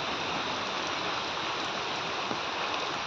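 Steady rain falls at the reception area of Pilibhit Tiger Reserve, a dense, even hiss of drops filling the scene without pause, close and moderately loud, with no voices.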